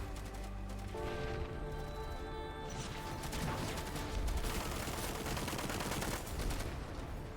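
Gunfire crackles in the video game Rimworld, clattering bursts and rapid shots layered over mechanical clicks and tones, fairly faint and busy throughout.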